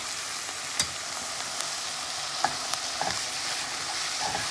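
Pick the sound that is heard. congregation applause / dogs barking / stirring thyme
stirring thyme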